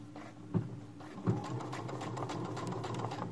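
A sewing machine stitches stretchy bias tape along a fold with a steady, close mechanical whir, broken by two brief heavier thumps.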